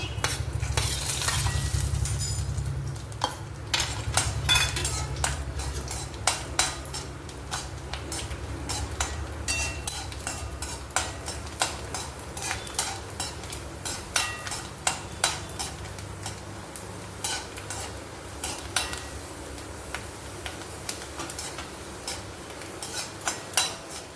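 Chopped almonds frying in hot ghee for a vegetable pilau give a steady loud sizzle, with frequent sharp clinks and scrapes of a utensil stirring against the pan, no talk.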